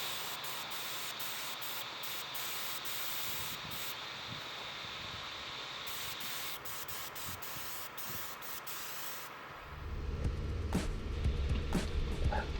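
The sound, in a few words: airbrush spraying paint on a brick wall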